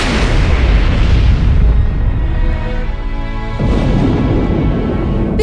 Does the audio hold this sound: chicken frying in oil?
no